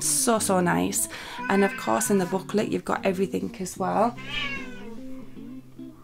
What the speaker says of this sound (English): Excuse the cat there.